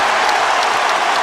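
Basketball arena crowd cheering steadily and loudly for a hustle play, a dense, continuous roar of applause and voices.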